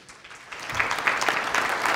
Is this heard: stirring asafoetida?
no